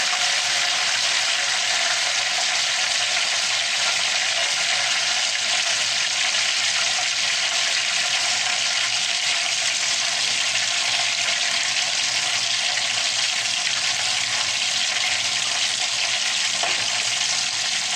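Breaded chicken deep frying in hot oil, a loud, dense, continuous sizzle and crackle that stays constant and close throughout, with no voices.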